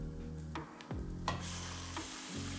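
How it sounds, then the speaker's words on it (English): Lamb coated in onion and cumin sears in a hot pan for a curry, a steady loud sizzle with scraping stirs of a spoon or spatula at intervals, close up with no voices. "Coat the lamb with your onion and cumin. Let it sear on a high temperature for 2 to 3 minutes"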